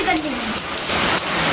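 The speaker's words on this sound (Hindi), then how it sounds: "अभी भी बहुत अच्छी वाली बारिश हो रही है" Heavy rain pours down in a steady, dense, loud hiss with drops pattering on surfaces close by, continuous throughout.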